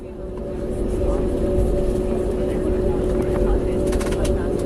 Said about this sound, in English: I did actually record the takeoff